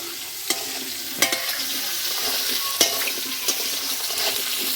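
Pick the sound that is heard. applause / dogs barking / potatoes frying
potatoes frying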